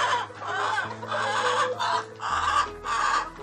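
Several hens cluck and squawk in short overlapping bursts, close by and fairly loud, with no talking.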